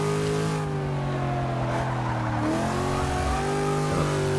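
A 1965 Ford Mustang racing in Forza 6 revs hard and accelerates, its engine note climbing in pitch through the gears, loud and steady with no talk over it.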